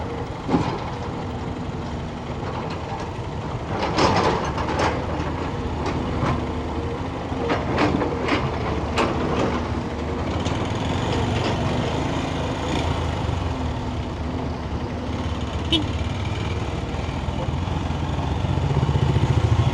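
An old Bajaj Pulsar motorcycle ridden off-road through wet mud in Nepal gives a continuous close engine drone with rattles and knocks from the bumpy ground, rising slightly in loudness toward the end.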